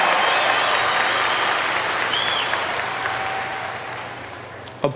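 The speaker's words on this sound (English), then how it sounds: "Applaud if you're from California." A large convention crowd at BlizzCon 2009 applauds when Californians are called on: a broad, steady wash of clapping that slowly tapers off over several seconds, with faint whistles and a sharp knock at the very end.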